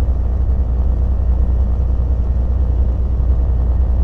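A truck about four years and seven months old works its engine climbing a slope, giving a steady, loud, low rumble that stays even throughout, close by and with no talk.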